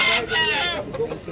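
A rooster crows loudly and close by in one long, strained call, its harsh tones fading into murmured background noise and a few faint clucks.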